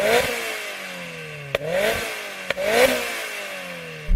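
Turbocharged Mazda Roadster MX-5 engine revving three times in a row, each blip rising sharply and then falling away, close and loud with a sharp click between revs.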